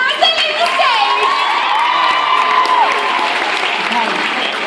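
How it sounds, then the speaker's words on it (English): Sustained audience applause and cheering at a cosplay convention stage show as performers leave the stage, a dense crowd roar with whoops and children's shouts running loud and continuous throughout. "Make that applause even louder as they leave the stage."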